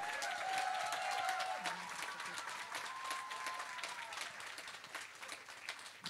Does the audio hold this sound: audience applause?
yes